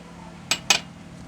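A spoon clinks twice against a container while scooping salicylic acid and propanediol, two short, close metallic taps about a fifth of a second apart over a quiet background.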